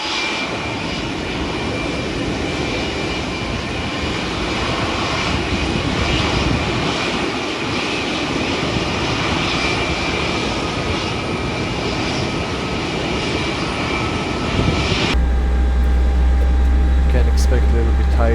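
A steady, loud roar of the engines fills the cockpit of a 34-year-old ex-British Airways Boeing 747-200 during engine start, with a broad rushing drone throughout. Near the end it shifts abruptly to a lower rumble.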